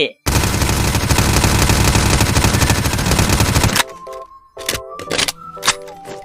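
Rapid automatic gunfire from the Gun3D add-on in a video game, a loud sustained burst of shots, then a pause and a series of mechanical clicks and clacks as the weapon reloads.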